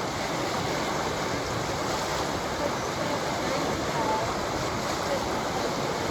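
Waves churn in the Boyce Park wave pool as a constant broadband wash of water noise, loud and unbroken throughout, with wind-like rumble and no distinct voices standing out.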